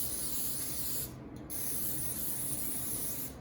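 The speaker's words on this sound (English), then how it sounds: "Now I'm gonna spray this side." Cooking spray hisses onto shrimp in an air fryer basket in one steady, close burst of about three seconds, with a short gap partway through.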